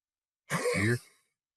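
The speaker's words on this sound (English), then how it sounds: "Take a deep breath and a big Huff cough." A single forceful huff cough for airway clearance in bronchiectasis, made from a seated position after a deep breath: one short, breathy, throaty burst of about half a second, close and alone in silence.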